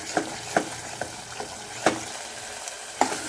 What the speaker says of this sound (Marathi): मसाला व्यवस्थित भाजून घेऊ